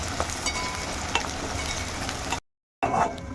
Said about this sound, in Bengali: এখন পেঁয়াজগুলো সব তেলের মধ্যে কিন্তু দিয়ে দিলাম। তো এখন এই পেঁয়াজগুলো বেরেস্তার মতন করে ভেজে নেব।